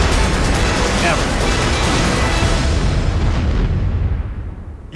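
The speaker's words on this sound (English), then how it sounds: "A series of massive explosions threatens downtown Dallas" Massive explosions tearing through downtown Dallas, a loud sustained roar of blast and rumbling debris that fills the whole stretch before tailing off at the end.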